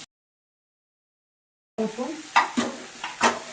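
Food being stirred and mixed in a pan with tomato and green peas, giving a few scraping, clinking strokes with light sizzling after a silent start.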